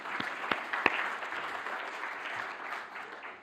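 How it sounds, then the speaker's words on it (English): A symposium audience applauds during the closing plenary, a steady wash of clapping with a few sharper claps near the start, heard from within the hall at moderate volume. "Applause to everybody."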